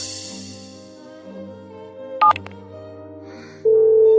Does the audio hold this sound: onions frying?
no